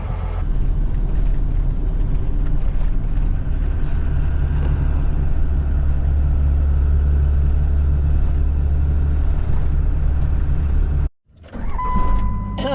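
Steady low rumble of a pickup truck driving, heard from inside the cab for a long stretch, then a brief cutout followed by a short high beep.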